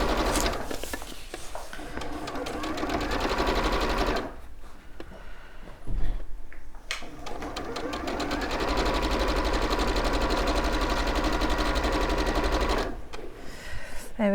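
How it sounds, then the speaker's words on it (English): A sewing machine runs a straight stitch on a tote bag in long steady mechanical bursts, close and loud, with a short pause in the middle and another near the end. "I'm sewing a straight stitch"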